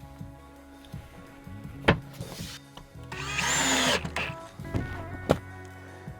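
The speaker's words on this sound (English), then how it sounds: "I'll finish putting a few screws in here." A power drill drives 1¼-inch drywall screws into the wooden frame of a large holiday train layout, with short whirring bursts, one longer screw run and knocks in between.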